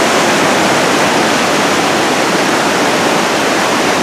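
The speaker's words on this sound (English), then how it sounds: "Look at that waterfall." Dense, unbroken roar of a waterfall, loud and close, a steady wall of crashing water with no voices.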